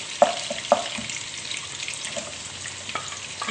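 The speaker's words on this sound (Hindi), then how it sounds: "हल्के से इनको सौते करना है, ज्यादा नहीं करना, बस लाइट सा" Onions sauté lightly in a pan for chicken Manchurian with a continuous gentle sizzle, and a few sharp clinks of a spatula come early on.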